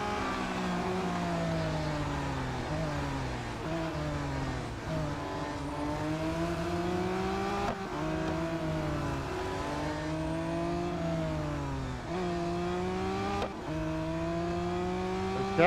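Race cars in the mobile racing game Real Racing 3, a loud, steady engine drone whose pitch climbs and falls repeatedly through gear shifts and braking over a long stretch, with no talk.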